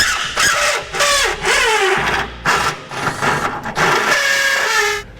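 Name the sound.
rotary tool with carbide bit enlarging a hole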